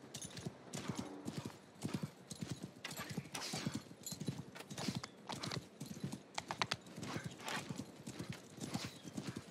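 Horse hooves clip-clop steadily in Mount & Blade Bannerlord during a mounted battle, a fast rhythmic gallop up close with an occasional whinny, and other game noise underneath.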